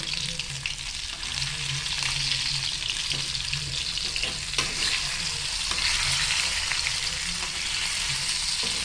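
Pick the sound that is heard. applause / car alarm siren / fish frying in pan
fish frying in pan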